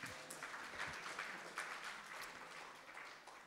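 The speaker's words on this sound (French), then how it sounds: "On peut l'applaudir." Steady applause from a crowd, continuous clapping at moderate distance with no voices rising above it.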